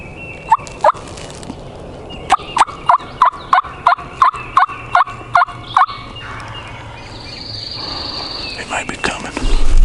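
A wild turkey gobbles and yelps in a rapid series of sharp, clear calls from fairly close by in thick woods during a public-land hunt, with quiet whispering and rustling afterward.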